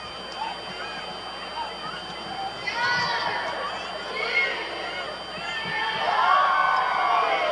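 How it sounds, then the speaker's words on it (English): College football crowd at a James Madison home game against Rhode Island chanting the Go Dukes cheer between quarters, a distant stadium roar of rhythmic shouts swelling in waves, heard from far off with broadcast commentary over it. "they're doing the Go Dukes cheer here between quarters, as they typically do"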